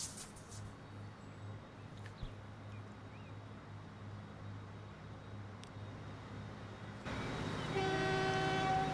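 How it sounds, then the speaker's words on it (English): A train in the Transport Fever 2 video game rumbles along with a steady, even running noise, then grows louder near the end as sustained horn-like tones join in. No one speaks. "Right, so that's our train that's going to come out of there for a bit."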